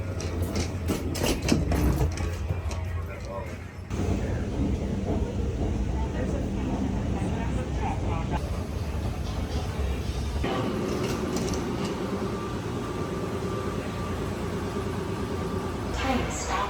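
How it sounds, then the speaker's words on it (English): A train rumbles and clanks as it slows, with mechanical whirring and a voice announcement heard over the running noise. "Train is stopping."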